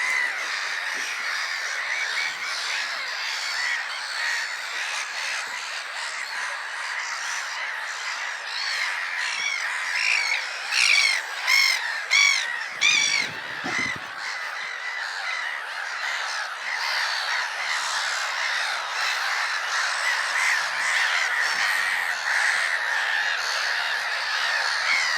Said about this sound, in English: Black-headed gulls, I would say.